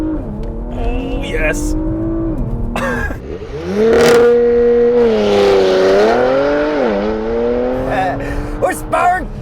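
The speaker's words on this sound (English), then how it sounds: "'20 Porsche Macan Turbo with launch control." A 2020 Porsche Macan Turbo with a 2.9-liter twin-turbo V6 launches under launch control, engine rising through several loud gear-shift sweeps with tire noise, recorded from inside the cabin as a person briefly exclaims.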